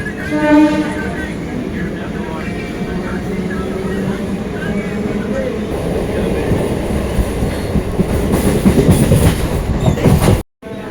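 A Bandel–Howrah local train rumbles along steadily past Chandannagar with rattling wheel clatter that swells louder toward the end, and voices are faintly audible over the noise.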